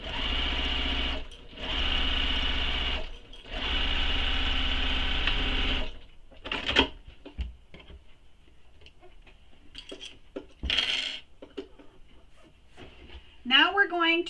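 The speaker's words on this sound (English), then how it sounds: "you're just sewing this straight edge, not sewing anything else" A sewing machine top-stitches the straight edge of a fabric bag in three steady whirring bursts, then goes quiet while fabric rustles and handling clicks follow nearby.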